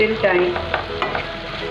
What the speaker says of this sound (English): add it to the vegetable and roast it for some time